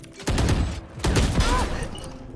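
Gunfire in a competitive shooter match: two loud, close bursts of rapid shots, the first starting early and the second about a second later, each trailing off into a ringing tail.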